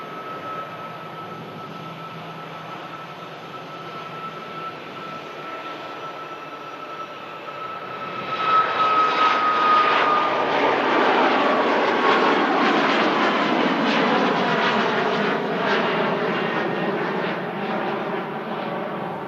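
An airliner begins its takeoff roll on runway 28 at Manchester Airport in thick fog, the engine roar swelling sharply from a steady distant hum to a loud, broad rush that holds before slowly easing.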